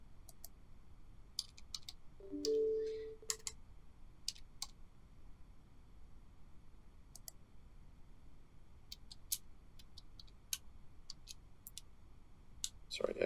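Faint, sparse keystrokes tap on a computer keyboard while a command is entered in MATLAB, scattered single clicks in a quiet room with a brief electronic tone near the start.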